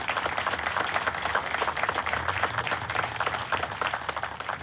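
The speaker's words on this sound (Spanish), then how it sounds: "Un aplauso." An audience at a memorial book presentation claps steadily and fairly softly in a dense, even patter for a few seconds, with a murmur of crowd underneath.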